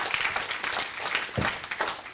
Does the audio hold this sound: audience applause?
yes